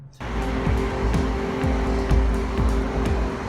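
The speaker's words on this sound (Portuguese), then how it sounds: "se precisar acelerar um pouquinho, ó, pelo menos tem um ronquinho do motor aqui" A Toyota Yaris XS engine revs up while accelerating, a steady close engine drone with rising and falling pitch swells and several quick throttle blips, loud and without talk.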